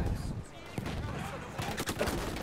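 A brief spell of shooting in the World War I game Battlefield 1, with quick cracking shots layered over a busy battle din while a voice talks.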